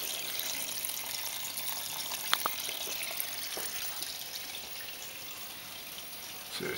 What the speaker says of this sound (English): That's the water pump for the waterfall.